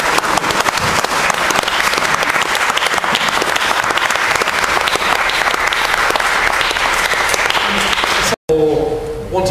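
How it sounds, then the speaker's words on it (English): Sustained applause from an audience at a talk on peacemaking and Franciscan spirituality, loud and dense clapping that runs steadily for several seconds before cutting off abruptly. "shall we give him a round of applause and say thank you very much for coming."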